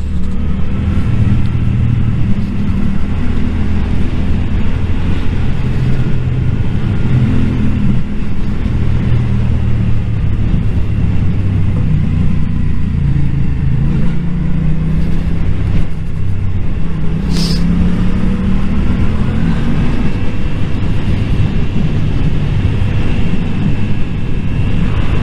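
A motorcycle rides along a mountain road in Switzerland, its engine droning steadily and close up. Wind rumble runs throughout, and the engine pitch rises and falls gently with the throttle, with no speech.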